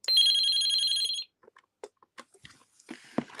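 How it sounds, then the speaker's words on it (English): A desk telephone plays its default ringtone: one steady, bright electronic tone lasting about a second, then only scattered quiet clicks and handling sounds. "So I'll do the ringtones on this. So this ringtone's default."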